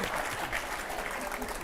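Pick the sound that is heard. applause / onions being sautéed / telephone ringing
applause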